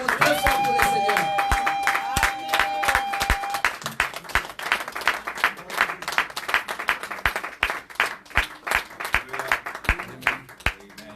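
A church congregation applauds to welcome the pastor André Munga Kalenzi, steady dense clapping that turns into rhythmic clapping in unison, with a voice heard briefly at the start.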